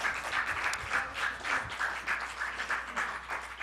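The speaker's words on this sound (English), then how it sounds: "Let's give another round of applause for our amazing participants." Audience applause for participants at a youth gun violence prevention workshop, continuous, fairly faint clapping from a crowd that stays even throughout.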